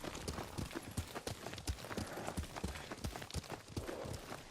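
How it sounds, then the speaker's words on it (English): Horse hooves clip-clop in a steady walking rhythm in the video game Ghost of Tsushima, soft and fairly close, with faint ambient noise and no talking. "Lord Sakai taught me to ride a horse."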